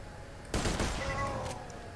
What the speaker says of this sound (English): Gila kemana-mana coy ini SMG nya